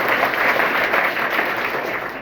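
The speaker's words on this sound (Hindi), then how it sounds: "एक बार जोरदार ताली।" An audience bursts into strong, continuous applause at an educational talk, dense and sustained for the whole stretch with no speech over it.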